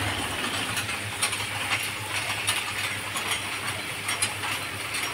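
A spinning mechanical toy gives off a steady whirring rattle with light, regular clicking ticks, close by and with no talking over it.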